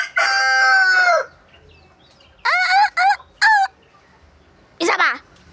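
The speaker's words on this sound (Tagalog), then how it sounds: "Pasensya na kung maingay yung yung background ko. Manok kasi ito eh." A chicken crows loudly nearby: one long drawn-out call, then a cluster of shorter crows and a final burst, separated by quiet gaps.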